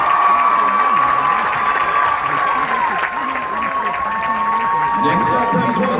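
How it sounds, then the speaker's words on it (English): A crowd at a high school football game applauds and cheers for a student, clapping under a voice on a loudspeaker with a band tone sustained in the background. "How about another round of applause for her?"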